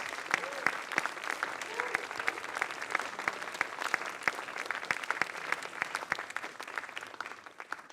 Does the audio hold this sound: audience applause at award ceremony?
yes